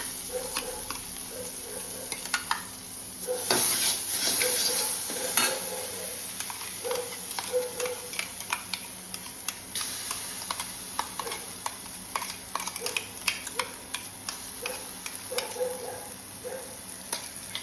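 Drumstick pulp is stirred into a kadhai with a spoon of oil, asafoetida and cumin, a steady close sizzle overlaid by frequent rhythmic spatula scrapes and taps against the pan throughout.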